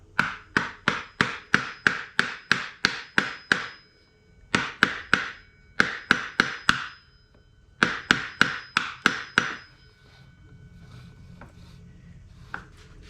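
Sharp metal hammer taps on a stuck part of a Craftsman tiller being restored, a quick run of about ten even strikes, then two more bursts of rapid taps, fairly close and loud with no talk, trailing into quiet shuffling.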